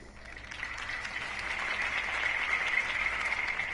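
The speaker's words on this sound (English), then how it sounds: "If only Mr. Wayne, my campaign's largest backer, could have heard that applause" Dense crowd applause in a Batman video game swells steadily, a continuous wash of many hands clapping that grows slightly louder toward the end.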